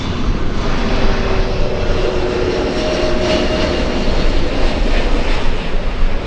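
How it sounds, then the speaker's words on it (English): A Qantas Airbus A380 airliner on final approach at LAX, heard as a loud, steady jet engine roar that fills the whole stretch with no talk over it. "So we're going to go for the Qantas A380 instead."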